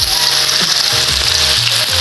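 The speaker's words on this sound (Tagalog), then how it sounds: "I-prito muna natin yung Tofu" Oil sizzles and spits steadily as tofu fries in a pan over high heat, a loud, close, continuous crackle with a low hum beneath.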